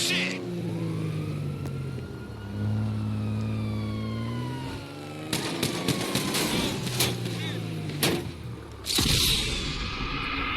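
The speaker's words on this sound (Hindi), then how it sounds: "डबल ओ 7 की कार से गोलियां चलाना शुरू कर देते हैं।" A police siren wails in rising and falling sweeps, then sharp bursts of gunfire from a car crackle in quick clusters over engine noise and game effects in GTA 5.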